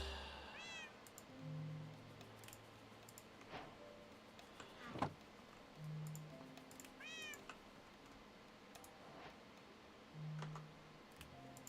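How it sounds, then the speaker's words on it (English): A cat meows twice in the Minecraft ATM9 modpack, two short rising calls several seconds apart, clear against a quiet game backdrop with soft ticking and low tones. "It has a cat"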